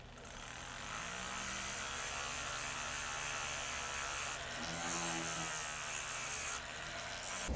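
Rough edges of a handmade metal jewelry bezel cup are sanded, producing a continuous close buzzing, grinding hum with slight fluctuations in intensity throughout.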